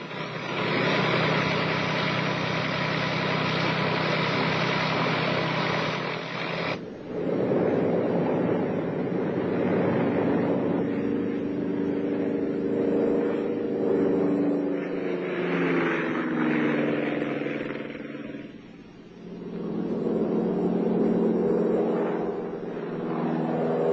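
A glider tow aircraft's engine roars loud and steady for takeoff, then turns to a lower, droning hum as it pulls away.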